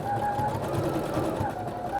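A sewing machine runs steadily through a zigzag stitch on curtain fabric, its motor humming close and continuous for about two seconds before stopping abruptly.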